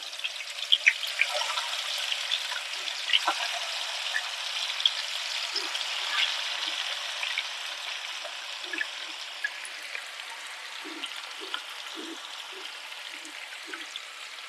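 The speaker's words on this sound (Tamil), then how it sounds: "இப்போது மேரினேட் பண்ணியிருக்கிற சிக்கன் ஒன்று ஒன்றா வச்சு நல்லா பொறிச்சு எடுத்துக்கோங்க" Marinated chicken pieces for a Vizhinjam-style Trivandrum chicken fry sizzle steadily in hot coconut oil, a soft continuous crackle dotted with small pops and faint clinks.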